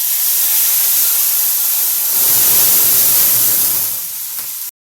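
Water boils vigorously in a steamer for moong dal dhokla, giving a steady loud hiss of steam with a bubbling rumble that swells midway and then eases before stopping.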